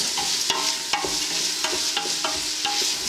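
Onions frying with rock salt in a pan for a Sri Lankan chicken curry, with a loud continuous sizzle and regular scraping stirs about every half second, close up and with no voices.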